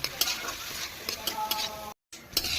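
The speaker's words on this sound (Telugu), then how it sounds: "కారం, పసుపు వేసుకొని బాగా ఫ్రై చేయాలి" Cauliflower leaves and boiled stalks fry in a pan with chili powder and turmeric, giving a close sizzle with repeated scraping stirs and a brief silent gap near the end.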